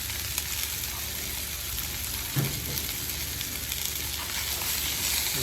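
Cheesesteak meat and vegetables sizzle steadily on a Blackstone griddle, a soft continuous frying hiss with an occasional light scrape.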